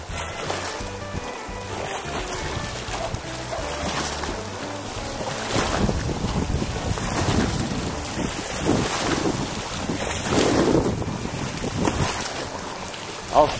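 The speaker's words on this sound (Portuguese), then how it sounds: "Ô, ventania." Strong wind gusts buffet the microphone outdoors during a fishing trip near open water, a rough, surging rumble that swells and eases unevenly, with faint sounds of movement and no clear speech.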